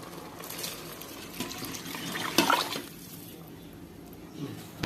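Water poured from a vessel into a pot for cooking parboiled rice, a faint, soft splashing trickle that swells briefly and then tapers off.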